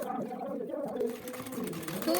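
Sewing machine stitching a plain blouse, running continuously at close range with a steady whirring hum and a busy rapid needle rhythm.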